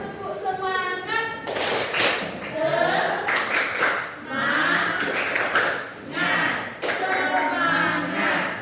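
A classroom of students performs the rhythmic 'tepuk semangat' clapping chant, led by a teacher: a voice calls out between bursts of clapping and chanting from many children, close and loud.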